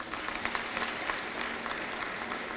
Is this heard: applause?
yes